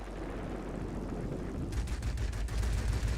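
A single 37mm cannon on a Yak-3RD fighter plane in World of Warplanes firing in a rapid stream of thumping shots from about halfway through, over a steady engine roar, with no talking.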